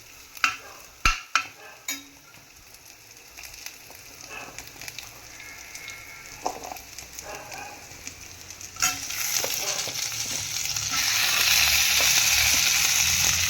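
Raw tomatoes hitting a hot pan and sautéing for a tomato rice mix, a few sharp knocks and scrapes of stirring followed by a sizzle that swells louder and steadier toward the end, with no talking.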